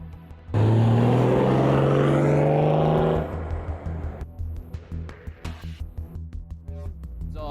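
A big 79 four-wheel drive car travels toward the Victorian Alps. A loud, rising engine drone swells close by for a few seconds, then drops away into a rough, uneven road rumble with repeated knocks.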